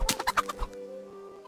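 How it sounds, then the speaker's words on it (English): Chicken in the medieval game Kingdom Come: Deliverance giving several quick, close clucks in an uneven burst during the first half, then trailing off under a steady low game ambience. "Chicken."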